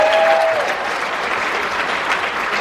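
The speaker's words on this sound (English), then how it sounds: "again, give her a big round of applause." Steady, full applause from a crowd at a ceremony celebrating honorees, greeting Sarah Hamilton in a dense, even wash of clapping close by with a brief tonal sound at the start.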